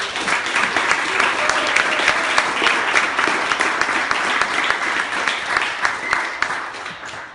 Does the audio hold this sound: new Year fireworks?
no